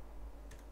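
A single key press on a computer keyboard while working in AutoCAD: one quiet, short click near the end of a brief stretch of faint room hum.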